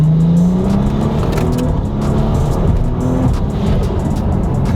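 Car with an upgraded low-pressure fuel pump accelerating hard in third gear, a loud close engine roar with a rising tone that climbs steadily, alone without talk.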